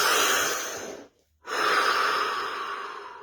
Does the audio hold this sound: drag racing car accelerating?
no